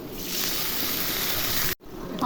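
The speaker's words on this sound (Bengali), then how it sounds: "পেঁয়াজ ভাজা হয়ে গেছে, এখন পানি দিয়ে দিব।" Water poured into a pan of fried onions, a continuous rushing hiss that cuts off abruptly, followed by a faint bubbling simmer.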